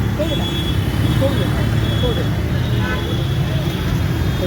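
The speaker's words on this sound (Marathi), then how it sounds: "आणि बघा ही ट्रॅफिक पुण्याची" Steady road traffic in Pune beside a metro station and overbridge, a continuous rumble of cars, buses and trucks passing close by, with faint distant voices mixed into the din.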